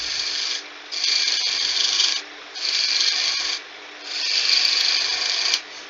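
A woodturning tool shears a cove into a spinning wooden candlestick on a lathe, giving three sustained raspy cutting passes, each separated by a quieter lull of the running lathe.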